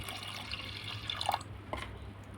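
Water poured into a pressure cooker holding chana dal and salt, a short close trickle and splash with a few drips in a home kitchen.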